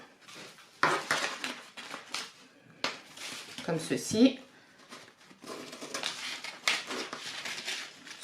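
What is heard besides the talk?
scissors cutting fabric along marked lines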